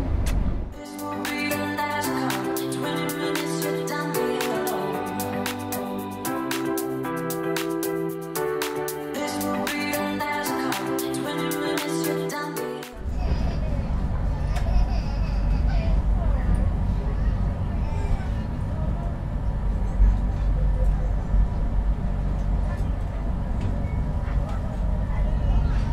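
Aboard the Progo executive passenger train, a low steady rumble of the carriage rolling along the rails fills the second half after a stretch of music, continuous and close.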